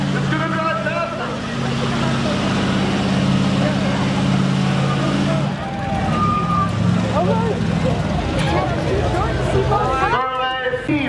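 A minivan and a larger van launch off the line at a drag strip, engines roaring loud and steady alongside crowd and PA noise, with a commentator's voice running over the racket.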